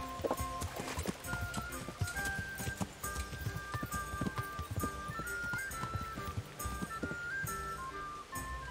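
Horse hooves clip-clop in Kingdom Come Deliverance, a steady walking rhythm set against game music and layered ambient sound, with an occasional snort or whinny mixed in.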